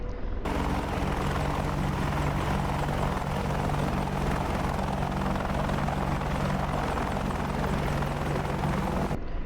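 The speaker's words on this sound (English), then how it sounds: "the medevac helicopter can come in there and get them" A video game medevac helicopter in DCS World drones steadily overhead, its rotor thump and engine whine loud and continuous throughout, with no voices.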